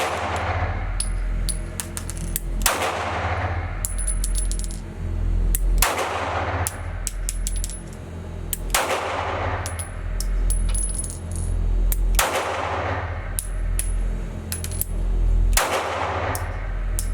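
Springfield Armory Hellcat 9mm micro compact pistol fired at an outdoor range: five loud, sharp shots spaced a few seconds apart, each with a ringing tail, over a steady low rumble.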